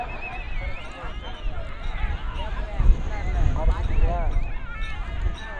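Jallikattu bull charging through a crowd of players, with hoof thuds and scuffling under constant loud shouting and talk from the people around it.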